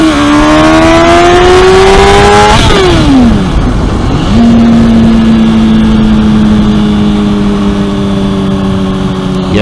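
Honda CBR 600RR engine pulls loudly through rising revs, drops briefly as it shifts, then climbs again in a long, sustained close-up howl.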